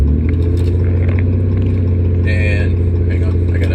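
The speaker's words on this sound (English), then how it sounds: "This truck's kind of loud." A loud truck engine drones steadily from inside the cab with a strong low rumble and constant vibration, close and dominant throughout, with faint rattles above it.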